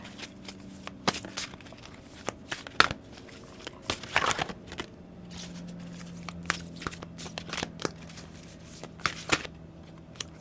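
Tarot cards shuffled by hand in irregular bursts of crisp riffles and soft slaps, close and fairly quiet, with brief pauses between handfuls and no talking.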